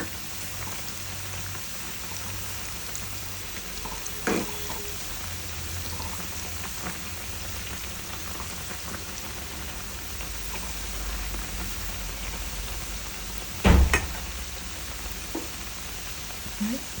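Onion bondas frying in hot oil, a steady crackling sizzle that runs throughout, with a few sharp clatters of a utensil and no talk.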